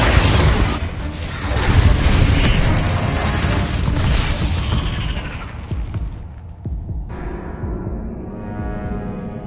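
A Confringo blasting spell in Hogwarts Legacy sets off a heavy, booming explosion that rumbles densely through most of the stretch, then thins into a lower mechanical throb and hum as the blast dies down.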